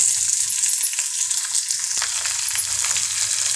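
Capsicum and ivy gourd pieces tumble into a hot chutney pan, setting off a steady, close sizzle of frying with light clinks and stirring, no voices.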